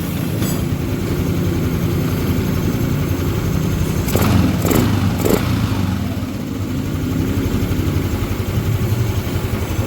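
A Yamaha NMAX scooter with an Error 37 fault being cranked by its starter. A steady mechanical hum runs throughout, broken midway by three short bursts of starter noise.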